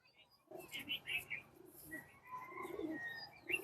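Female breeder pigeons in a home loft give soft, low cooing calls with a few higher chirps, fairly close and continuous over faint room noise, with no talk.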